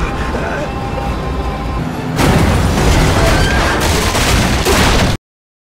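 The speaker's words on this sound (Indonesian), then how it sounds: "Victor menyambut kedatangan Otto dengan tembakan" Gunfire in a tense film scene, a man shooting at an approaching truck: a steady roar of noise turns into a louder, harsher burst of rapid cracks and crashes before cutting off abruptly.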